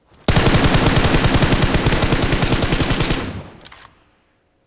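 Rapid automatic gunfire in a shooting video game, one loud sustained burst of evenly spaced shots for about three seconds, then a short tail and a couple of faint clicks, with no talking.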